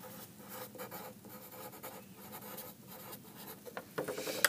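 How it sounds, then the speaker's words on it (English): Color stick dragged across paper with heavy, solid pressure, giving a steady scratchy rubbing of repeated strokes close to the mic, growing a little louder near the end. "I'm going to be using color sticks for this. And I'm going to start with a really heavy, solid pressure."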